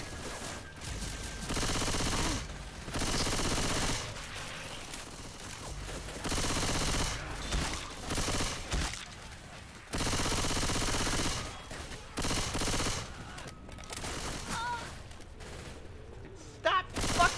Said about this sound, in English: Stop fucking shooting me, Jordan! I'm not even shooting you. You just shot me